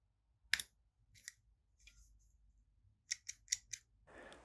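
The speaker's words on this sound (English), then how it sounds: "I like to cut away all the vines first so I can see what I'm doing." Scissors snip through sweet potato vines in sharp, close, isolated cuts, one early, another after a pause, then a quick run of four near the end, over a quiet background.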